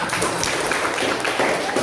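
An audience in a classroom presentation setting applauding, a dense, steady wash of clapping that lasts the whole short moment with no clear breaks.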